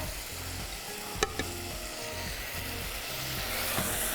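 Gram-flour-coated okra is stir-fried on a high flame, giving a faint, steady sizzle under soft background music, with a couple of brief clicks from the spoon.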